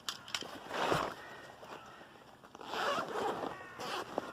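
A zipper is drawn open on a compartment of a carp fishing bag outdoors, two or three short rasping pulls at close range, fairly quiet.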